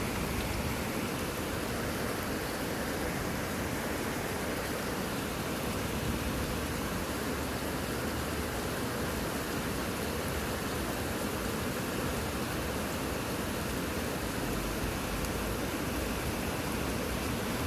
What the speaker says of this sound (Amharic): እንደዚህ አይነት ከባድ ዝናብ ያረጁ ቤቶች በሚበዙባት በአዲስ አበባችን በጣም አደጋ የሚያስከትል ሁኔታ ነው